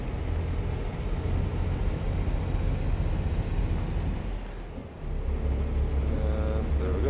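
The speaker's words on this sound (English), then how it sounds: "I'll let some cars go by" Cars rushing past on a coastal highway in American Truck Simulator, a steady loud road roar and engine drone from traffic close by, with a brief dip before the noise swells again.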